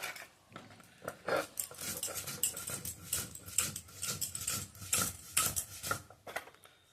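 Spice paste of cumin, garlic, ginger, onion and chilli ground by hand on a shil stone, heard as repeated scraping, knocking strokes in an irregular rhythm, close and fairly loud.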